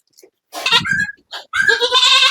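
A young male kid of the Kodi goat breed bleats loudly and close by, giving several wavering calls in short bursts separated by brief pauses.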